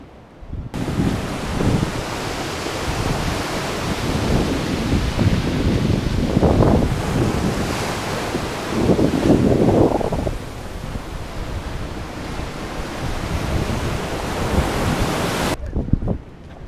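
Sea waves washing along the Yalta embankment in Crimea, a continuous rough surge with louder swells in the middle, mixed with wind buffeting the microphone and no one speaking.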